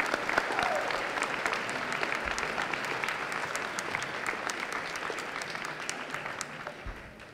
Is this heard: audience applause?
yes